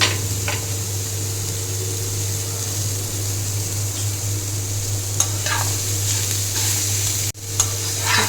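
Paneer and prawns cooked with broccoli, butter and garlic are stirred in a hot pan. A steady close sizzle is heard alone, with a few light scrapes and clicks of the utensil.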